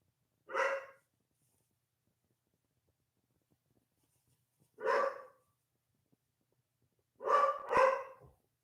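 A dog barks three times against near silence: single woofs spaced apart, then a quick double bark at the end, fairly close and clear.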